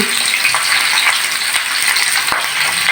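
Green chillies fry in hot oil with cumin, giving a dense, continuous, loud hiss of sizzling with one brief clink near the end.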